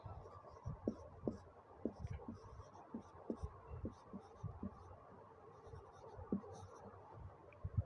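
Soft pen or chalk strokes writing on a surface in a quiet room, a series of light scratchy taps and scrapes in an uneven rhythm, close and faint.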